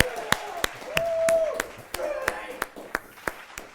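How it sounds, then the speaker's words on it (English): Sparse, evenly spaced hand claps ring out from a small talk-show studio audience welcoming the show's first guest, a dozen or so sharp claps with voices running underneath. "please give a big round of applause for our first ever guest, Frank Burnham."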